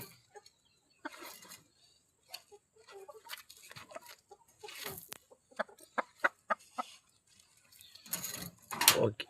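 Chickens cluck in a scattered, irregular series of short calls around a farmyard, with some louder bursts near the end and quiet gaps between.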